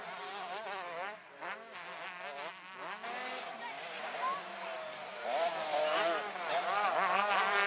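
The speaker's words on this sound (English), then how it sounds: "a 125 2-stroke going flat out down the track." A 125cc two-stroke motocross bike races flat out down the track at a UK pro championship round, its high buzzing engine rising and falling through rapid revs, fairly distant and faint.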